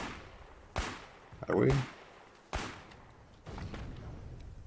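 Gunshots in the war game Foxhole crack out as a few sharp, separate reports spaced a second or so apart, loud and fairly close, with a brief spoken question between them.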